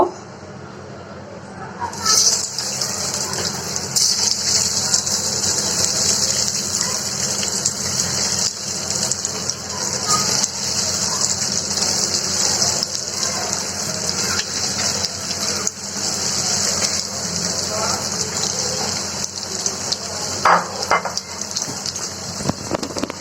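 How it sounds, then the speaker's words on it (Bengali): Batter-coated jackfruit fritters drop into hot oil and set off a loud, hissing sizzle that starts abruptly and holds steady and close, with small crackles throughout. "তারপর আমি এটা তেলে ভেজে নিব।"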